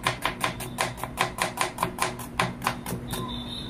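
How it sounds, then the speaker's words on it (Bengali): Onions are chopped fast with a knife on a board, a rapid, even run of crisp taps that ends in a short pause. "রাতের রান্নার জন্য পেঁয়াজ কাটা হচ্ছে"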